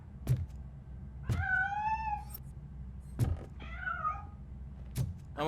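A cat in the video game RoboCop: Rogue City lets out two drawn-out, rising meows, close and clear, between sharp knocks and thuds in a quiet room.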